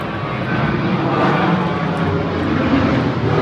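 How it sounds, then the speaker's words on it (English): A steady, broadband engine roar of an airplane passing overhead, loud and continuous throughout with no talking. "Airplanes. That guy had to do a turnaround."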